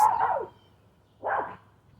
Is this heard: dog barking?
yes